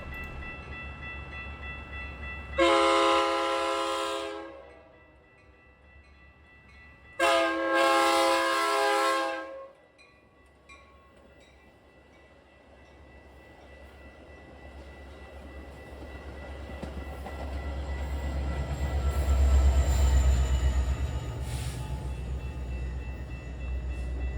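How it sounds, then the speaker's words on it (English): An SD70MAC locomotive pushes a Metra commuter train into Chicago, sounding two long loud horn blasts before a low engine rumble and rolling wheel noise swell as it passes close by, with no voices. "we see SD70Mac 511 pushing 2118 into Chicago"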